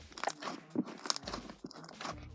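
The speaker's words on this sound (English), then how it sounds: "The slime is super chunky, but it makes it crunchy." Chunky slime mixed with instant snow crunches and crackles in short irregular bursts as it is squeezed, close and fairly quiet with small crisp pops.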